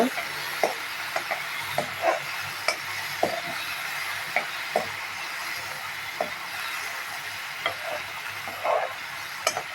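Ridge gourd, onion and tomato frying in a pan, a continuous hissing sizzle with regular light taps and scrapes of a spoon stirring, close up and steady.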